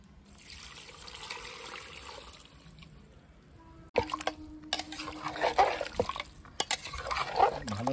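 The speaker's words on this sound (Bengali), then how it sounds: "দিয়ে দেবো গরম জল" Hot water poured into a cooking pot holding mutton, fried potatoes and fried onions for a thin curry; a faint trickle first, then a louder, splashing pour with clinks of the pot, close and with no voices.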